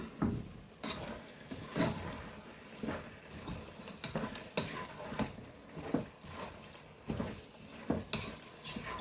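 Kerala-style chicken chukka cooks in a pan, with rhythmic scraping stirs every second or so over a faint background sizzle, close and moderately quiet.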